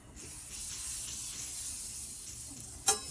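Butter hitting a heated $23 carbon steel pan, a bright steady hiss and sizzle that swells in after a moment and holds evenly, ending with a sharp clink near the close.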